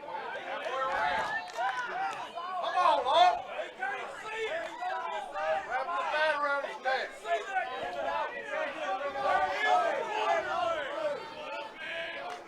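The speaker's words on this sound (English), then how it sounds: "So let the crowd do the talking right now." A full-house ballpark crowd at a college baseball game, a continuous dense chatter of many voices with scattered shouts and cheers rising and falling, fairly close and sustained throughout.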